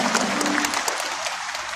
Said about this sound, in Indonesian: Tepuk tangan dong buat kita semua ya.